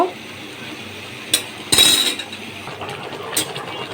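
A lid is set onto a cooking pot of meat being braised with onion, turmeric and green chilies, giving a brief metallic clank and rattle amid a few lighter clinks in a quiet kitchen.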